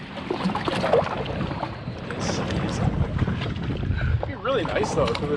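Gusty wind buffets a small boat out on the water, loud and steady throughout, with broadband rumble and water noise; voices talk faintly beneath the blustery wash.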